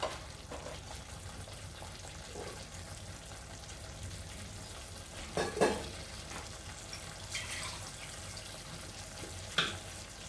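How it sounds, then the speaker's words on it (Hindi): Vegetable kofta gravy sizzles steadily in a pan while water is poured in, with a few clinks and stirring scrapes over the frying hiss. "अब इसमें मैं पानी डालूंगी।"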